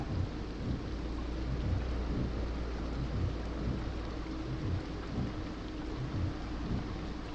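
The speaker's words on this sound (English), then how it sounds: "You can even hear the rain." Steady rain patters and hisses throughout on a truck, with soft rhythmic low thumps underneath, like drops drumming on a roof or windshield.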